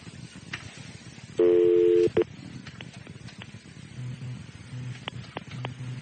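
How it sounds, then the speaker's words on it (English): An office telephone gives a loud, steady tone for under a second, then a couple of quick dial beeps. Later, softer intermittent tones and keypad clicks follow over faint room noise. "Do I have to dial 9 or not?"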